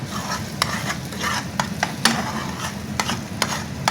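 Eggs being flipped over meat frying in a pan for a home-style makhlama, with steady sizzling and a run of sharp scraping and turning clicks from a utensil scattered throughout.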